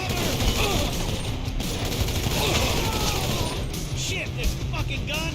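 Gunfire in the GTA 5 video game, bursts of shots and crashing noise running through a busy mix while someone shouts over it.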